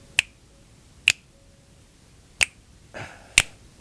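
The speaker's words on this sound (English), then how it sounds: "I wanted to add finger snaps, but it might get overcooked." Four crisp, close finger snaps ring out one at a time with uneven gaps between them over a quiet background, with a faint soft rustle between the last two.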